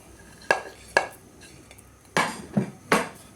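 Eggplant is pounded in a mortar for a Thai galangal chili paste, giving several sharp, hollow knocks at irregular intervals, close and fairly loud with quiet gaps between strikes.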